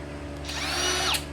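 A wood router fitted with a small bit whines steadily at high speed, loud and close, its pitch rising as it bites into the workpiece near the end, with no talk.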